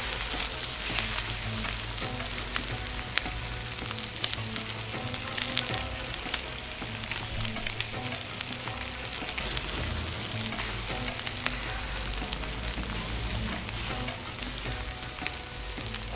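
Prawns frying and browning in a pan for prawn curry, a continuous loud crackling sizzle with occasional stirring scrapes, steady and close throughout without speech.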